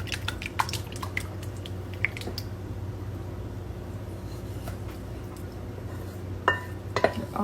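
Breakfast casserole mixture with sausage, sweet potato and cheese is poured into a dish, heard as scattered wet drips and a few light clinks of the dish over quiet kitchen background.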